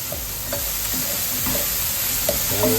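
Chopped tomato sizzles in a hot pan for Sri Lankan sambal, stirred with light repeated scrapes and taps over a constant soft frying hiss.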